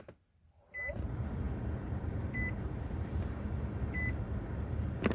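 A car's ignition is switched on, bringing up a steady electrical and fan hum after near silence, with faint periodic high chimes or beeps sounding about every one and a half seconds.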